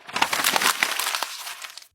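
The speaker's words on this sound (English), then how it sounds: "crumpled paper" Paper being crumpled makes a dense run of crisp crackles and rustles for about two seconds, close and fairly loud, then stops abruptly.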